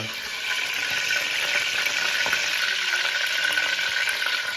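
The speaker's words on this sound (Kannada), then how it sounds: "ಚೆನ್ನಾಗಿ ಕಾದಿದೆ ಎಣ್ಣೆ ಈ ಥರ ಕಾಯಬೇಕು. ಈ ಥರ ಸೌಂಡ್ ಎಲ್ಲ ಬಂದಮೇಲೆ ನಾವು ಕುಕಿಂಗ್ ಮಾಡೋದನ್ನು ಸ್ಟಾರ್ಟ್ ಮಾಡಬೇಕು" Hot oil sizzling steadily in a pan as it heats for pulao, a continuous bright crackling hiss, close and fairly loud, with no voices.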